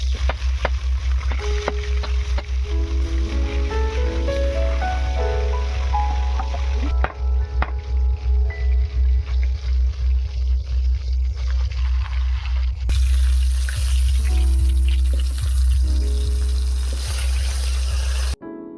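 Bata fish fry in hot mustard oil in a wok, a loud steady sizzle and crackle running throughout beneath tonal music.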